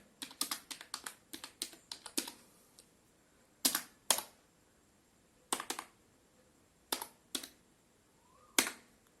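Fingers type a command on a computer keyboard in close, crisp clicks, a quick cluster of keystrokes followed by short separated groups of presses with pauses in between.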